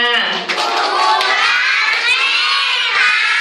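A group of children shouting and cheering loudly together, a sustained, close, noisy roar of young voices with some hand clapping mixed in.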